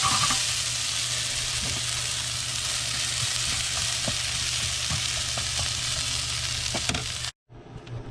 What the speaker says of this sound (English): Sauteing some onions.